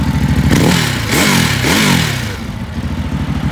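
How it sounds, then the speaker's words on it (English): A 2016 Ducati Hypermotard 939 SP idles nearby with a loud, lumpy rumble, blipped upward in two quick revs before settling back to a throbbing idle, with no voices. "Listen to that rumble. That's classic Ducati right here."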